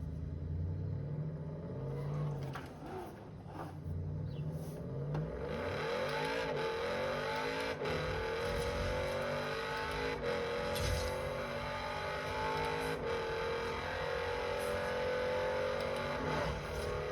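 Lamborghini Urus engine rumbling steadily while driving, with gear changes and rising revs heard from inside the cabin, loud and continuous throughout.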